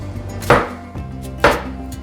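Quartered fresh tomatoes are pushed through a Tupperware onion slicer, giving two sharp, close crunching presses about a second apart, each with a softer clack between, alone without voices.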